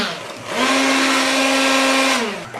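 An electric blender grinds Balinese spice paste for ayam betutu in one loud, close burst of about two seconds, its motor whining up to a steady drone and then winding down.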